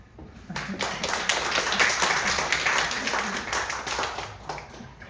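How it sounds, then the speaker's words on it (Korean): A church congregation claps together in a steady burst of applause lasting several seconds, dense and moderately loud, with a few sharper claps standing out. "나오실 때 우리 하나님께 영광의 박수 한번 해주세요."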